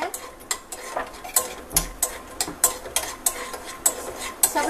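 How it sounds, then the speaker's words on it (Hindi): Peanuts roasting in hot ghee in a pan, a quick irregular run of scraping stirs and light clinks with a faint sizzle underneath, close and fairly quiet. "मूंगफली को आपको भूनना है।"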